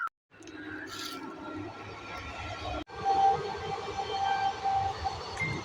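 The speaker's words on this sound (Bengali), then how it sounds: "এই যে ট্রেনটা যাচ্ছে" Near a suburban railway station, a passing train makes a low, steady, fairly faint rumble with a faint tonal whine, heard alone without any talking.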